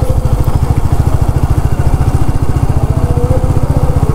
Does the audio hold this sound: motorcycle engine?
yes